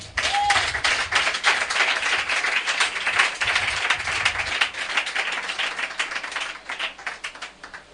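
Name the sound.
congregation applauding the Lord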